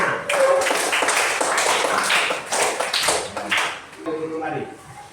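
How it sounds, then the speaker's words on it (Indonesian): Classroom children clapping hands together in applause, a dense burst of overlapping claps lasting several seconds and fading toward the end, with a voice speaking over it. "Tepuk tangan."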